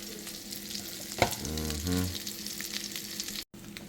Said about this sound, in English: I fry them on both sides for about 3 minutes each side